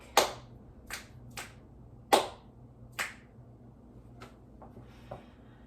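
Several crisp finger snaps and hand claps ring out one at a time at an uneven pace, close and fairly loud, with a few fainter snaps toward the end over a quiet background hum.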